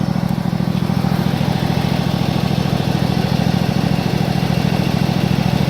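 A riding lawn mower engine idles steadily, a loud, close, even low putter with a constant rapid pulse and no change in speed.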